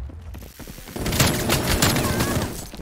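Rapid automatic AK-47 fire in Call of Duty: Cold War during a hardpoint match, a loud sustained burst of shots with mechanical clatter running for about two seconds after a brief quieter lead-in.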